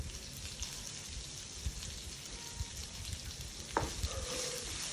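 Grated coconut tipped into groundnuts frying in a pan, a soft steady sizzle with stirring scrapes and a few louder clacks near the end, no talk.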